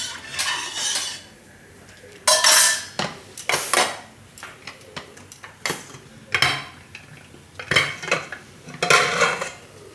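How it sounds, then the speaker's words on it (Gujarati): A spoon scraping and clinking against a metal pot while milk heats on the stove, in irregular bursts of stirring strokes with quiet pauses between them, close and fairly loud, with no voices. "તો દૂધને વચ્ચે વચ્ચે હલાવતા રહેવું ને ગરમ કરશું એને."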